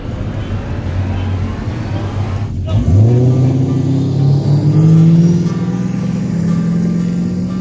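A turbocharged Jeep launches hard in a 100-yard drag race, a loud engine roar rising sharply in pitch as it accelerates away, staying strong and close throughout with a steady rumbling drone.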